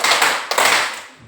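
A short burst of hand clapping, a couple of sharp claps close by with a brief pause between them, fairly loud and alone.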